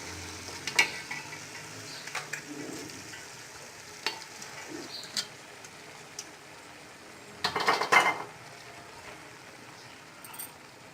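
Boiled rice for Bombay biryani is stirred in a pan, with a soft continuous sizzle of frying under intermittent scraping and clinks of a spoon against metal, close by and without talk.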